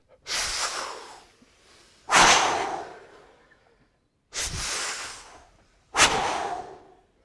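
A group of people at a talk take deep breaths together, giving four loud, airy rushes of inhalation and exhalation about two seconds apart with short pauses between, and no talking.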